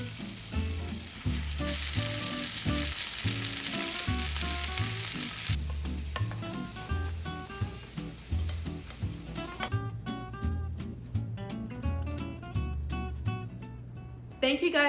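A thin salmon fillet fries in a pan with a soft, continuous sizzle, faint and close, under steady background music with repeating beats.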